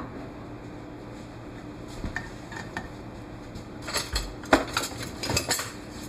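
Bacon pieces go into a pan with olive oil for celeriac, bacon and lentil soup: a quiet hum, then a cluster of metallic clinks and clatter as the pieces are tipped and moved about.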